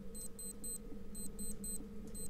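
A repeating electronic beep from a lock mechanism in the stealth game Thief 2, short evenly spaced tones in small clusters over a low steady hum.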